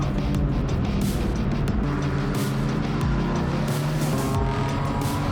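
Racing cars at Circuit Zandvoort, heard from on board a BMW M2 through the Gerlachbocht, with a loud continuous engine drone, shifting pitch as the car accelerates and brakes, and gear changes and passing cars in the mix.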